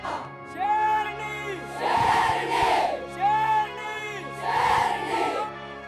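A crowd at a village dangal wrestling match shouts and roars in loud surging waves, voices swelling together, easing briefly, then rising again.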